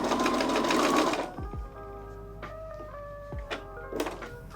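A sewing machine stitches in a fast, loud whirring burst, then stops, followed by a few quiet thunks and tool clicks while a Peter Pan collar is basted in place.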